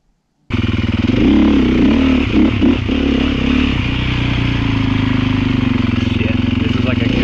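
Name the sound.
Honda CRF450 enduro motorcycle riding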